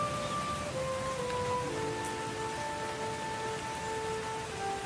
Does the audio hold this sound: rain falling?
yes